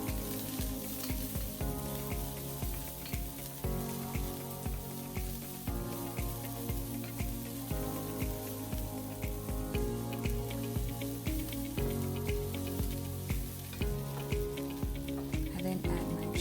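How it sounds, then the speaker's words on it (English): Garlic, ginger and chili stir-fry in a pan with a continuous, fairly loud sizzle and crackle, while soft music plays underneath. "To that, I will add the garlic, followed by the ginger, and then the chili, while I stir fry"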